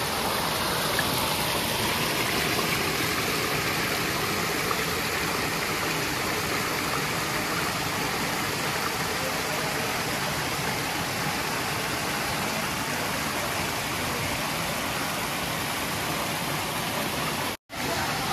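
A mountain stream at the Hồ Suối Lách tourist area in Khánh Vĩnh, near Nha Trang, rushes with a loud, unbroken roar of flowing water, with no voices over it.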